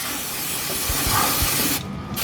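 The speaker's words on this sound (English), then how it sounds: "Giving it a little bit of a spray of the brake cleaner to get rid of the oil" Brake cleaner sprays hard onto the oily sump of a Mazda MX5 Mk1 NA during an oil and filter change, a loud continuous close hiss that cuts off near the end.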